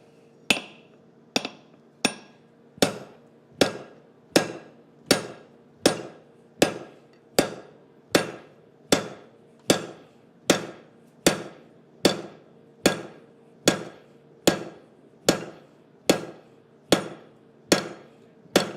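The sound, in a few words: hammer forging metal on an anvil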